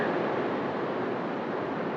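Steady, broadband rushing of a river waterfall, a constant roar without breaks, close and fairly loud.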